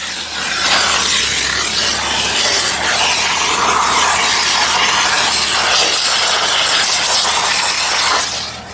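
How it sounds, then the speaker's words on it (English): A Chief steam cleaner hisses as it steams a Mercedes during overspray removal, a loud, close, continuous spray that runs almost unbroken for several seconds before tailing off. "I ended up getting a Chief Steamer. So we're gonna steam everything really well."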